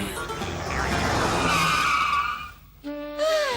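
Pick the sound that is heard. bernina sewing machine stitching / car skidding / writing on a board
car skidding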